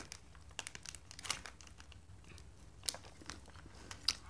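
Quiet, sporadic snips and crinkles of paper-tape packaging being cut with scissors, close up, with scattered sharp clicks amid soft rustling.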